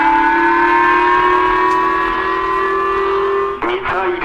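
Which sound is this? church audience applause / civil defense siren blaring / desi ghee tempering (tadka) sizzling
civil defense siren blaring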